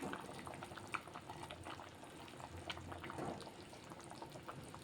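A pot of onion gravy with boiled eggs simmers and bubbles steadily, with soft liquid churning and occasional small splashes and stirring noises throughout, no talking.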